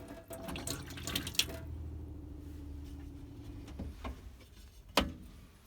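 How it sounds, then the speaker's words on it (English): Water runs steadily from a tap inside a 2006 Autosleeper Nuevo motorhome for several seconds, with a few clunks and knocks from handling nearby. "Hot and cold running water"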